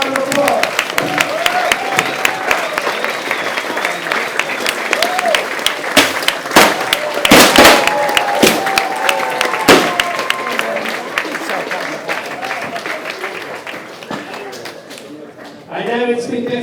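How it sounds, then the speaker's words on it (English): A conference crowd at a 2018 growth-hacking event applauds itself, dense sustained clapping and cheering filling the room for most of the stretch before tapering near the end, with voices mixed in. "Give yourself a round of applause."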